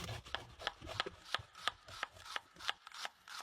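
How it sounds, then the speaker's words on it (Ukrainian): A carrot rubbed against a kitchen grater, with about a dozen rhythmic scraping strokes in steady succession, close and fairly quiet. "Натираємо морквину на терку."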